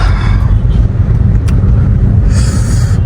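A car driving on freshly changed wheels, with a steady low engine and road rumble that holds loud and close throughout, plus brief hissy bursts of passing noise.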